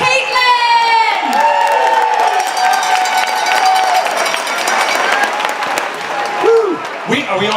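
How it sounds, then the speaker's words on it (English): A lively crowd at a Dancing With Our Stars competition claps, cheers and whoops for a dancing couple, loud and close, with shrill shouts and voices rising over the applause. "let's give one more round of applause for Will and Caitlin"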